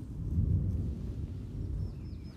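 Low rumbling thunder from a passing storm rolls steadily through, heard from the doorway of a box van, with a faint bird chirp near the end.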